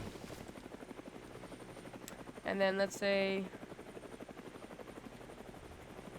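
A helicopter in the building game Brick Rigs gives a steady rotor chop throughout with a faint background hum, while someone talks over it.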